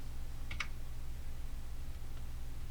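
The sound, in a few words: typing timecode on computer keyboard and pressing enter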